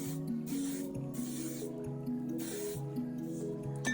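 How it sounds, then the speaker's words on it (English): Hairspray hisses from an aerosol can into hair for texture in a few short bursts, a close airy spray repeated about four times over a low steady background tone. "now I'm going to spray in a little bit of my hairspray, like I said, for texture"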